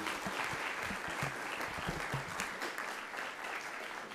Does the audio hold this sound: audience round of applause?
yes